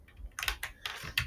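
Several quick bursts of computer keyboard keystrokes, close and fairly quiet, clicking in short irregular clusters.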